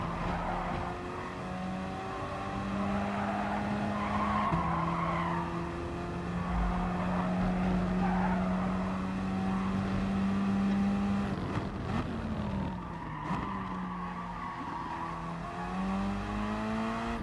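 Gr.4 race cars in Gran Turismo Sport roar steadily around the Dragon Trail Gardens circuit, with engines rising and shifting pitch and tires squealing through corners, loud and continuous with no talk.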